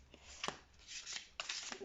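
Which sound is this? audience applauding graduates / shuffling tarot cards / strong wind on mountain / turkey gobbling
shuffling tarot cards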